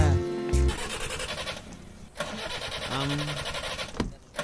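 A car engine cranks repeatedly without catching, a rapid mechanical churning that stops and restarts, with people talking over it.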